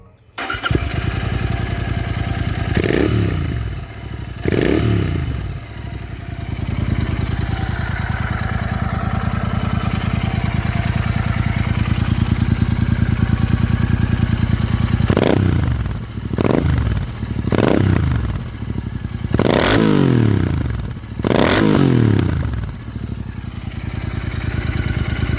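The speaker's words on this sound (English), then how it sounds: "This Interceptor also had a custom exhaust system, because of which the exhaust note was absolutely mental" Royal Enfield Interceptor 650 BS6 fitted with a custom exhaust, engine running loud and close throughout, with a steady idle broken by a series of sharp throttle blips and revs, several clustered near the end.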